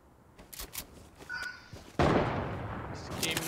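Gunfire in the zombie shooter World War Z, first scattered muffled shots and brief tonal effects, then a sudden loud burst of sustained firing and explosive noise that carries on to the end.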